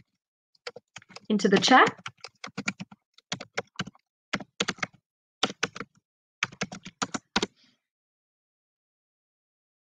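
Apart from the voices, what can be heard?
typing on a computer keyboard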